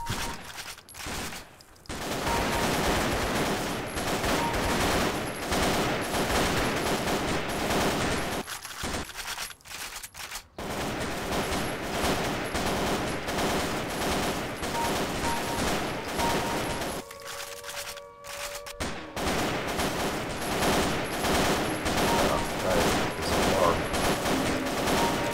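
Continuous rapid gunfire from a Half-Life mod rattles almost nonstop, with dense bursts and brief pauses, loud and close like game combat audio.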